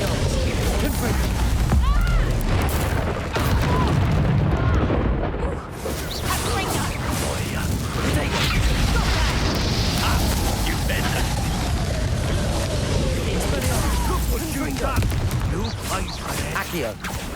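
Confringo spell blasts in the video game Hogwarts Legacy, a continuous roar of fiery explosions and crashing booms layered under shouted combat dialogue, loud and dense throughout a long duel.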